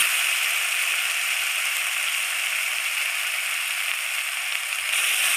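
Ground onion paste sizzles in hot oil in a pan, a steady, even hiss that holds for several seconds with no talk over it.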